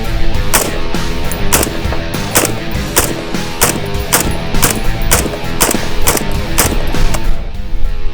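Rapid repeated gunfire from a firearm shooting through a couch, loud close sharp reports in a fast steady rhythm for several seconds, no talking.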